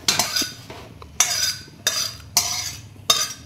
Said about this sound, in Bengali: এটা আমি একটা পাত্রের উপর ঢেলে দিলাম।